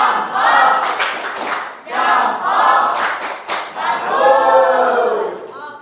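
A school class chants in unison and claps in rhythmic bursts, several loud group shouts in a row close by, with a teacher leading them in a classroom.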